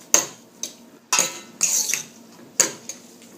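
Aglio e olio pasta with parsley is stirred and tossed in a pan: a handful of close, sharp metallic clinks and short scraping rasps at uneven intervals, with quiet gaps between and no voices.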